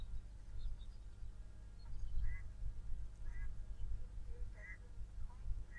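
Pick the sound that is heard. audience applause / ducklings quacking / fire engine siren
ducklings quacking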